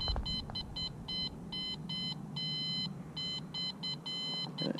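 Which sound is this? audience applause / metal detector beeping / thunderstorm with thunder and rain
metal detector beeping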